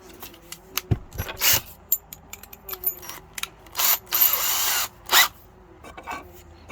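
A power drill bores a 6mm hole in short, uneven bursts, with sharper grinding spurts and brief clicks between them, close by.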